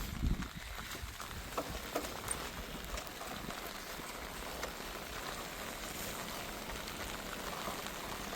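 Heavy, sudden rain falls steadily in Jaffna near a pond, a dense, even hiss of drops on surfaces that holds for several seconds, moderately loud and with no talk.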